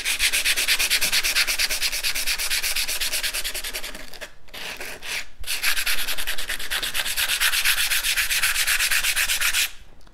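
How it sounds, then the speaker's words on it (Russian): Rapid, even strokes of sandpaper rub back and forth up close over gesso ground on an icon panel, broken by two brief pauses. "если вы шлифуете вручную, то это довольно долго"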